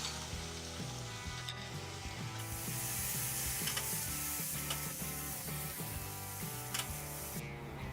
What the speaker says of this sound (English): We will saute both the things together.